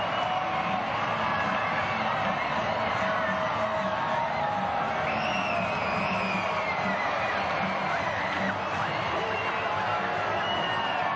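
A USL Championship soccer stadium crowd roars and cheers after a home goal. The sustained wash of voices sits fairly low in the mix under a commentator's talk.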